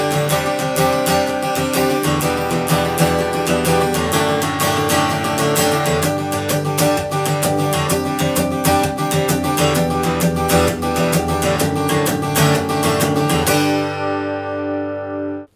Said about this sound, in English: if I play a little chord progression for you first without palm muting and then add it in